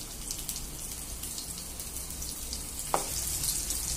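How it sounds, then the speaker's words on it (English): Cumin seeds and chopped green chilli fry in hot oil for a Kashmiri dum aloo, giving a steady, close crackling sizzle throughout, with one brief sharper pop near the end. "once the cumin seeds are cooked, we can add 1 chopped green chilli"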